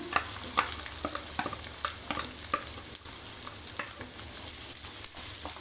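Onions and green chillies crackle and sizzle in a pan, with frequent stirring scrapes and small pops over a steady frying hiss.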